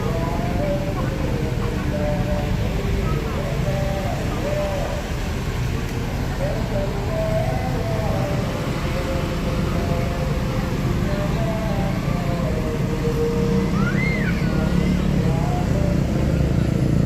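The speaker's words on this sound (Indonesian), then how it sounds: "bus JRG berangkat setelah menaikkan penumpang, berangkat menuju Medan" JRG bus pulling away toward Medan from a roadside stop at the Simpang Lambaro entrance in Banda Aceh, with a low engine rumble amid busy traffic noise, a distant horn, and voices talking over it.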